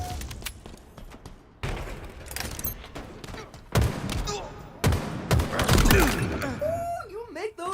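Rapid gunfire bursts and impacts from the Halo video game come in irregular clusters, with booms and shattering hits, mixed with game sounds and voices talking over the action.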